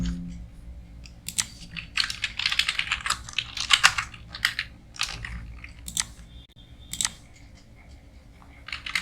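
Keys clatter on a computer keyboard in irregular bursts of quick taps with short pauses between, close and fairly crisp, with no talking over them.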